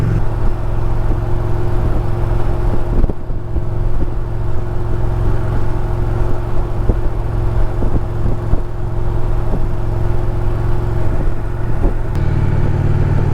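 An Indian Challenger motorcycle engine cruises steadily in 5th gear at about 55 mph and 2,500 RPM, a constant loud low drone with a smooth hum and faint wind, with no talk over it.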